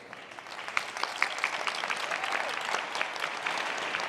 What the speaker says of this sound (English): Another round of applause for all of our candidates.